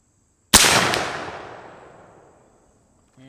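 A single loud, sharp crack from an AirForce Texan .50 PCP airgun, close by, with a long reverberant tail fading over about two seconds outdoors and no voices.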